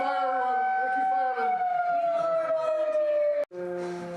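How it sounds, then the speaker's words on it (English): A loud, sustained fire siren wail holds a steady, slowly falling tone for over three seconds, then cuts out briefly before resuming. "Some people get annoyed by that siren."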